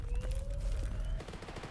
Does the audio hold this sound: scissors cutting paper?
no